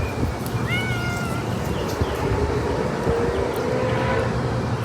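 A black cat meows in a few thin, rising calls over loud, steady background noise outdoors.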